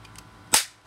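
A single sharp crack from a homemade BB gun firing, loud and close, with a short decaying tail in an otherwise quiet setting.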